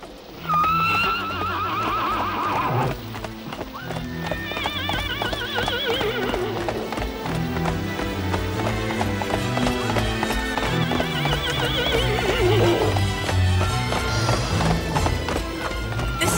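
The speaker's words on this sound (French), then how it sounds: "J'ai trouvé un cheval !" A horse gallops with steady, continuous clip-clop hoofbeats and lets out loud whinnies in an episode of a French Cinderella series, the sound staying close and dense throughout.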